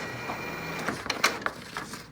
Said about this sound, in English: In this video I'm using Epson P50 printer. It's an inkjet printer